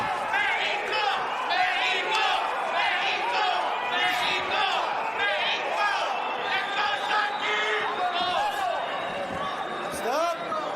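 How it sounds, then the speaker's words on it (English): Boxing-arena crowd chanting for Mexico during a fight between Efe Ajagba and Joe Goodall, a dense, sustained wall of many voices with rhythmic surges, filling the whole stretch loudly and close. "that chant for Mexico was started by Rebollar's own corner"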